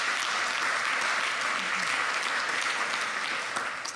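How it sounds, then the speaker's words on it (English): Dense, steady applause from an audience at a local city council campaign event in a community hall in London, filling the whole stretch at an even loudness and tapering slightly at the end. "Give yourselves a round of applause"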